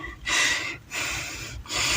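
Heavy panting close to the microphone: three long, loud, breathy gasps separated by short pauses, with no speech.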